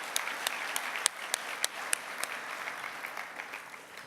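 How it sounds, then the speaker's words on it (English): A dinner celebration crowd applauds award winners with a moderate, even patter of clapping from many people, scattered sharper claps punctuating it, fairly distant and without talk. "Would you please join me in another round of applause for all of our award winners?"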